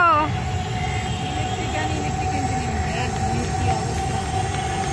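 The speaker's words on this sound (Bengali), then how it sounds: "ওই আবার ট্রেন যাই দেখো" A train rolls past near Curzon Hall with a continuous low rumble and faint wheel squeal, steady and fairly loud throughout, and people talk intermittently.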